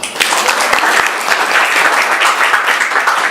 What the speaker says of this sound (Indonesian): Tepuk tangan buat Tuhan dong.